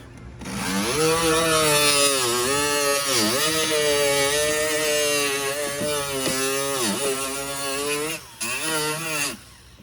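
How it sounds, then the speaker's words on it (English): A loud Snap-on grinder whines continuously near the listener, grinding down a plastic Harley-Davidson saddlebag lid, its pitch dipping repeatedly as it bites in, then briefly cutting out near the end. "We're going to use our snap-on grinder and just take a little bit off."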